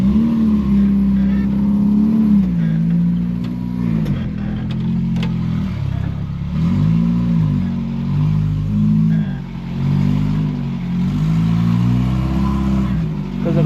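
A Daihatsu F10 engine in low gear rumbles steadily as the vehicle creeps and manoeuvres, with a few gentle rises and dips in revs and no brakes.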